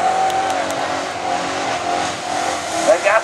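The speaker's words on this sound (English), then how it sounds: "Look at him opening up the burnout, the donut pad." A Holden VN Commodore does a burnout on the donut pad at Summernats, its engine and spinning tyres making a loud, steady roar while a commentator talks over it.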